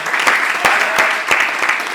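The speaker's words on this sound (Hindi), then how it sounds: "जोरदार तालियों से इस्तकबाल के लिए" An audience at a Hindi poetry recital claps loudly and steadily, a dense burst of applause lasting a couple of seconds.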